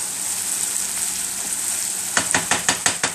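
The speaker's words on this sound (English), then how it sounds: "we're just going to keep this on the fire a little bit more until it relatively dries out" A spinach mixture fries on a stovetop with a steady, close sizzle, joined near the end by a series of rhythmic scraping stirs.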